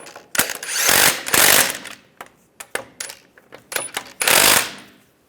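A wrench tightens bolts on the driver's side differential bracket of a 2007-2013 Chevrolet Silverado, heard as close, loud metallic ratcheting bursts separated by shorter clicks and clanks, with no talking.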